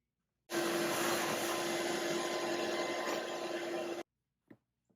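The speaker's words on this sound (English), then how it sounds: "We need to vacuum that mess up real quick though" A vacuum cleaner switches on and roars steadily for about three and a half seconds while sucking up fiberglass dust during a bass boat wiring install, then cuts off abruptly, followed by two small knocks.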